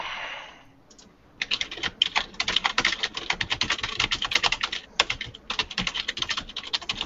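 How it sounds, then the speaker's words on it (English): Rapid typing on a computer keyboard, close and fairly loud, with dense bursts of key clicks broken by a few short pauses and no talking. "We're going to have to deal with me tippy typing here for a little bit"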